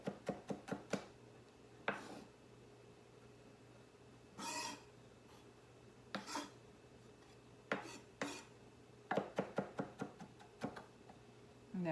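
A knife finely chopping thyme and other herbs or vegetables on a board while seasoned rice with fish is prepared, with quick clusters of sharp close taps separated by quiet pauses and single strokes, and no talking.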